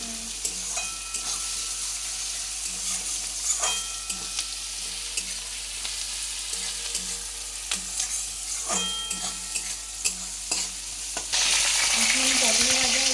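Onions frying with sugar in a pan give a continuous crackling sizzle, punctuated by scattered scrapes and taps of stirring, and the sizzle swells louder in the final seconds.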